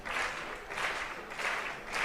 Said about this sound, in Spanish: Estas palmas que escuchan son para Joel